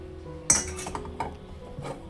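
Jowar flour batter mixed in a pot, with a sharp metal spoon knock against the rim, then scraping, clinking strokes at an uneven pace, close and fairly loud, with no voices.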